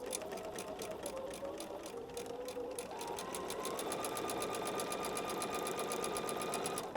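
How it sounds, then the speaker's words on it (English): A domestic sewing machine stitches patchwork quilt pieces together in one continuous run, its rapid needle clatter close and steady and its motor pitch rising slightly partway through, with no talking. "Let's go sew these two together"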